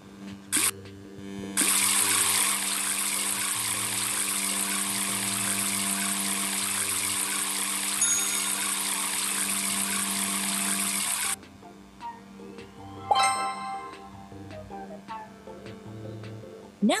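A shower runs as a loud, steady, broadband rush of water for about ten seconds, then cuts off, leaving quiet handling clatter and soft thumps.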